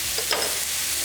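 Peanuts tipped into a hot, dry wok for roasting give a brief rattling stir and a soft sizzle, close by and alone with no talking.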